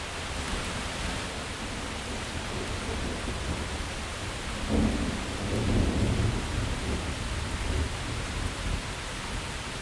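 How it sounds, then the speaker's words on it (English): Torrential nighttime thunderstorm downpour over the Smith River area: a steady, dense roar of heavy rain with deep rolling thunder swelling in the middle and lingering, no voices. "we got a torrential downpour. The heavens just opened up."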